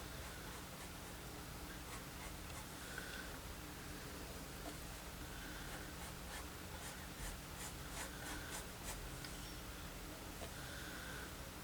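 An angle brush strokes paint over pencil lines with soft, steady rubbing and brushing, close and faint, repeating in short passes with no talk.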